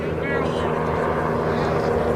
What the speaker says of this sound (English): There's that helicopter overhead.